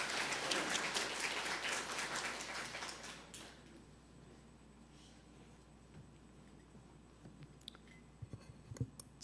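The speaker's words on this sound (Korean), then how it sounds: "힘내시라고 박수 한번 부탁드리겠습니다." A church congregation at a Baptist Sunday service claps for about three seconds, quiet and somewhat distant, before the room falls nearly silent apart from a few faint clicks and rustles.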